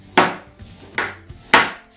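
Cabbage is chopped finely by hand with a knife on a board, three crisp, sharp strikes spaced roughly half a second apart, close and clear with quiet between them.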